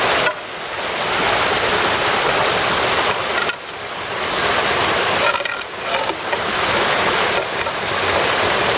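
Creek water pouring over a hand-built dam in a steady, loud rushing wash that surges and dips slightly, heard close with no talking.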